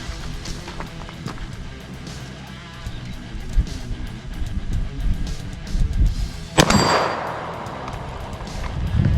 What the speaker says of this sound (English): Good shooting, Tex.